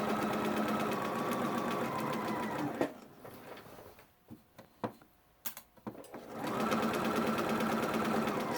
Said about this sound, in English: and then I'm going to go all the way around and sewing close to the fold.